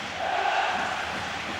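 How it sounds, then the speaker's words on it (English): A basketball arena crowd cheers during the 1993 EuroBasket semi-final between Russia and Croatia, a brief, steady roar of voices rising from a packed hall with no single voice standing out. "the crowd really heating up now"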